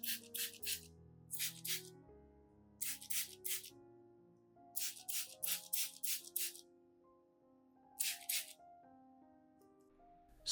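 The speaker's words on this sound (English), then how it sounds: "Spray mist onto each leaf and root of the orchid." Repeated short hissing bursts of a spray bottle misting an orchid's leaves and roots, in quick clusters of three to five pumps, over soft background music.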